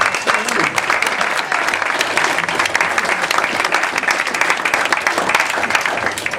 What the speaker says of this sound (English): Girls, give a round of applause.